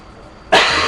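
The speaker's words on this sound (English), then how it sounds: "How about coughing?" A single loud, abrupt cough bursts out close to the microphone after a moment of quiet room tone.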